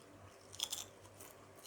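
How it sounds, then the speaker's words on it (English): Garlic and herb flavoured crisps being bitten and crunched, a short close cluster of crisp cracks in the middle of an otherwise quiet moment with low background hum. "All good crisps will have a crunch to them."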